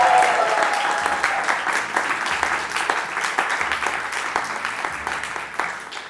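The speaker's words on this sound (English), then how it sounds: "we have a big round of applause from our audience," An audience at a panel event in a design centre gives a big round of applause, dense continuous clapping that stays loud and steady throughout, with no talking over it.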